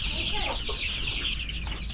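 Eight-day-old broiler chicks in a poultry house peep and cluck together, a steady high chorus of overlapping calls over a low background hum, with no talking.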